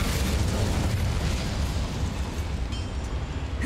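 Incendio fire spell cast in Hogwarts Legacy, a steady roaring, crackling burst of flame that holds loud and dense throughout with no talk over it.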